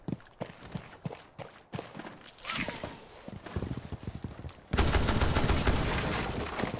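Gunfire in Rainbow Six Siege, a series of sharp shots and bursts over footsteps and game noise, swelling into a loud sustained roar of fire near the end.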